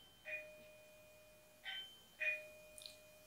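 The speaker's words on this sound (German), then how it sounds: "da klingelt es an der Tür" Doorbell chiming at a home, three short soft ding tones spaced about a second apart with a faint higher tone at the end, fairly distant and quiet, no talk.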